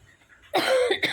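A single harsh, close cough bursts out after a brief quiet moment, followed by a short second rasp.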